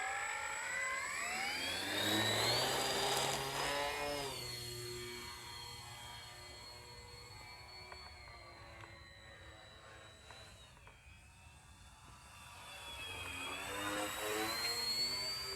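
A Dynam Grand Cruiser Cessna 310 RC model plane flies past, its twin electric motors whining loud and rising in pitch before fading and swelling again as it circles.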